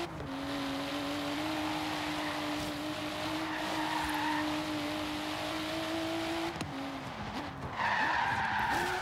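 A Toyota Supra drifting in the Forza Horizon racing game, its tires squealing in a long sustained skid over a steady engine drone, with a second squeal rising near the end.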